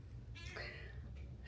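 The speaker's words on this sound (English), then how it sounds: "So the kitties are in the basement." Single short meow from a cat in a house basement, faint and somewhat distant over a low background hum.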